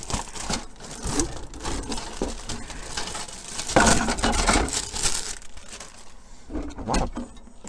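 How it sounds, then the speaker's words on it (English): Plastic bags crinkling and rustling in irregular bursts while the parts of an HO scale model kit of the Munsters house are unpacked, close and fairly loud. "A lot of plastic bags."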